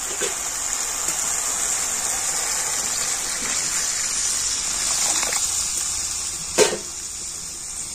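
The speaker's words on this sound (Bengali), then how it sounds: "আর এখন আমি এর মধ্যে দিয়ে দেবো গরম জল।" Hot water gushes steadily into a pan of spinach and chana dal curry with oil-separated spices, a continuous near pour with a brief splash near the end.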